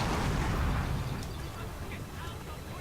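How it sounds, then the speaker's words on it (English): Cannon artillery booms in the strategy video game Fall of the Samurai, a dense rumbling barrage of shots blending into continuous battle noise that stays loud for the whole stretch. "I'm now shooting his general with my cannons yet again"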